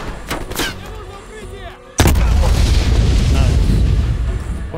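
In Call of Duty Black Ops Cold War, distant gunfire and voices give way to a sudden heavy grenade blast, then a sustained loud rumbling roar of explosions and gunfire.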